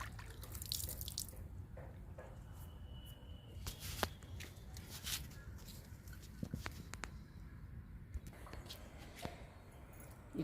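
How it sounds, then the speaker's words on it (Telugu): Liquid fertilizer poured onto a large potted adenium plant, heard as a close, steady trickle with scattered drips and splashes, with faint birdsong in the background. "మొక్కకి ఇస్తున్నా లిక్విడ్"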